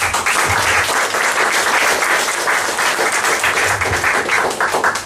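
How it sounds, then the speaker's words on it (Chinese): Sustained audience applause fills a direct-selling team sharing session at Rochor Centre, a dense, steady roar of many hands clapping close by for the full five seconds with no talking over it. "我们先给明哥一个掌声吧。"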